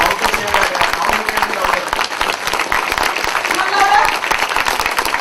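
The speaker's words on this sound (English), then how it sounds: "Give a loud applause. Give a louder." An audience at a mock interview award event for biomedical engineers bursts into loud, sustained applause, dense clapping filling the whole stretch with a few voices mixed in.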